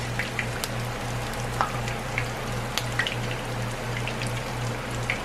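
Tortilla frying in hot oil for hard shell tacos, a steady close sizzle with scattered small pops and crackles running throughout, no voices.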